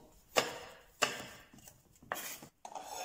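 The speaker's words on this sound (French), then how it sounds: "je le taille en petits morceaux" A knife chops through apple on a board in a few sharp, separate cuts, close and crisp, with brief pauses between strokes.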